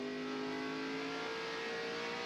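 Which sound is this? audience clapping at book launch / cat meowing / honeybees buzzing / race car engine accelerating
race car engine accelerating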